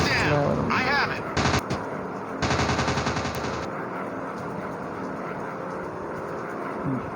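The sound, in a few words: fighter plane machine gun fire in a WWII dogfight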